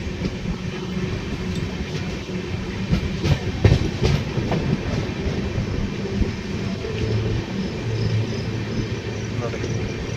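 A train rolls into Tolahunase railway station, a junction under construction, with rumbling wheels and clacking over rail joints close by, while someone talks over it.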